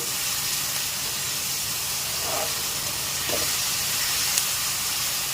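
Onions and a couple of green chillies frying in oil for a chicken fry, a steady broad sizzling hiss throughout with no talking.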